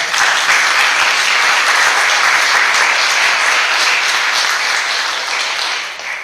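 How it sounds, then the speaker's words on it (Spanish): A church congregation breaking into loud, sustained applause, a dense wash of many hands clapping close by that holds steady for several seconds before easing off slightly at the end. "¿Cuánto le dan palmas al Señor por eso?"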